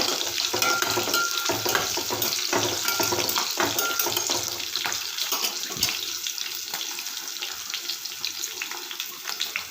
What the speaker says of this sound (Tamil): நல்லா ஃப்ரை பண்ணி விடுங்க பச்சை மிளகாய் நல்லா வந்து வதங்கணுங்க